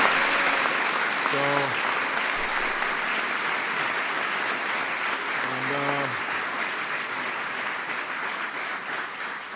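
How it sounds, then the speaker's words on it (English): Sustained audience applause fills a White House ceremony honoring the World Series champion Kansas City Royals, steady and dense throughout with a couple of brief voices or whoops rising through it. "They deserve a big round of applause for that."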